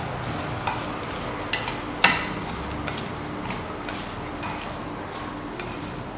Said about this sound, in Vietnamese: Rồi mình trộn đều lên, trộn cho gia vị nó thấm.